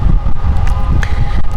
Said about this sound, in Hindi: तेज़ हवाएं चल रही है